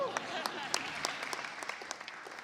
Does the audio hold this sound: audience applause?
yes